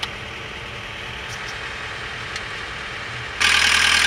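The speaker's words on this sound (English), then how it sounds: "There's the engine." A John Deere 318D engine runs at a steady idle, a continuous even mechanical hum that jumps abruptly louder and brighter near the end.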